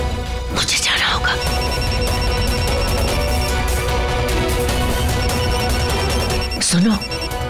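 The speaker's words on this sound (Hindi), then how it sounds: "मम्मी जी का फोन तो यहाँ घर में ही रिंग हो रहा है" A mobile phone ringtone rings inside a house, a steady repeating electronic tone running through the whole stretch, with talk and drama music layered over it.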